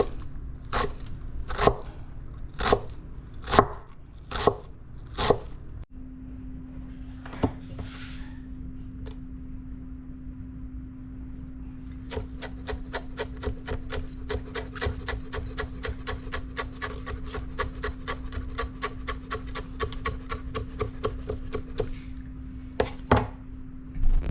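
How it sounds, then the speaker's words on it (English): An onion being chopped very small on a board: a few slow, separate knife thuds, then a long fast run of rapid even chops, close up with a low steady hum underneath and no talking. "and get this onion all chopped up. really small."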